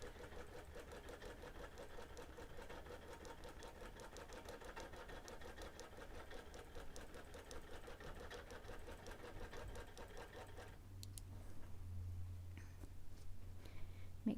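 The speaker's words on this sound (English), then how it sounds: "I just go slowly so I can make those adjustments as I stitch." A sewing machine free-motion quilting a quilt border hums steadily and evenly at a slow pace, fairly quiet and close, before the motor changes to a lower drone near the end.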